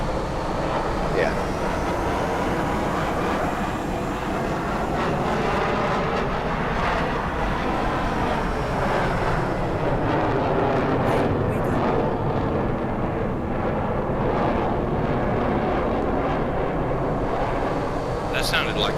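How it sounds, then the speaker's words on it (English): A loud, continuous jet roar from an F/A-18A fighter, with afterburner sound, fills the whole stretch, steady and broadband with wind-like rush and a slowly shifting whine, as the aircraft comes straight toward the listener. "That sounded like a jet."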